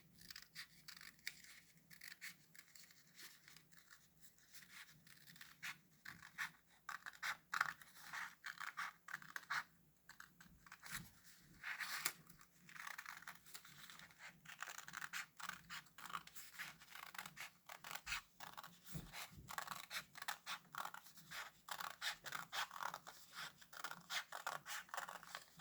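Scissors cut out a folded paper thermometer, with faint, close snips and scratchy paper rustles repeating irregularly over a long, quiet stretch.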